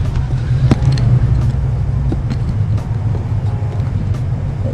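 A Suzuki Hayabusa motorcycle cold-starts and idles nearby, a low rumbling drone with scattered ticks and clicks, and a voice speaks briefly over it.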